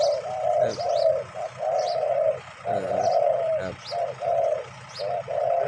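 A spotted dove coos in repeated soft, hollow phrases at a steady pace, fairly near, with faint chirps from other birds in the background and no talking.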